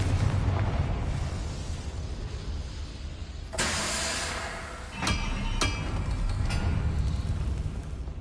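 Confringo fire spell explosions in the Hogwarts Legacy video game: a sudden loud blast with a roaring tail, followed by two sharper bursts, all over a steady low rumbling game background.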